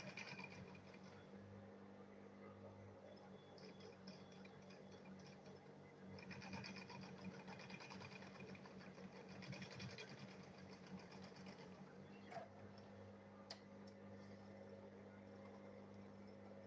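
Sewing machine stitching fabric for a child's school bag, a steady mechanical whirring hum that runs continuously and fairly quietly, close by, with small pitch and speed shifts as the seam is sewn.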